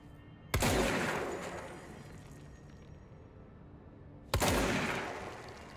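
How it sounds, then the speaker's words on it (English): Two loud, sharp blasts from a hand shotgun in the game Control, several seconds apart, each booming and then decaying slowly in a reverberant room. "That is quite the hand shotgun, that's for certain."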